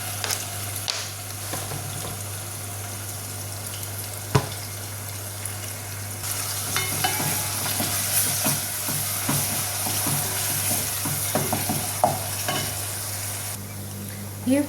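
Food sizzles and crackles steadily in hot oil in a pan while being stirred, with scraping and a faint running tap in the background, loud and continuous.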